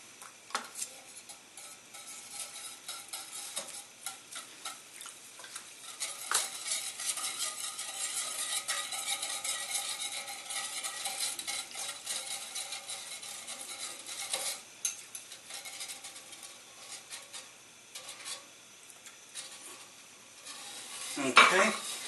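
A spoon stirs a sauce with cayenne and brown sugar in a pot for pulled pork, giving continuous scraping, clinking and light sizzling that grows busier midway, with no talking.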